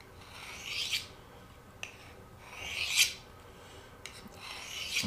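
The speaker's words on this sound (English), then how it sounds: "if you want to get finer yet, you use a plain steel. And it's just steel on steel." A knife blade is drawn slowly along a plain steel, steel on steel, in several evenly spaced rasping strokes about a second apart. Each stroke is close and clear against a quiet background.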